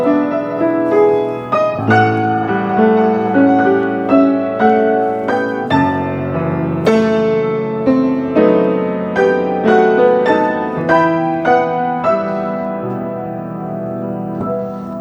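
Puccini opera orchestra playing a dense, sustained passage with a single melody doubled in four horns at fortissimo, rich harmonic swells rising and falling with strong accented attacks, loud and full without voices.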